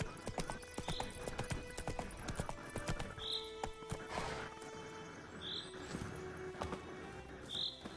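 Horse hooves clip-clopping in a video game, a steady stream of sharp hoof knocks over game ambience, with several short whinny-like cries at regular intervals.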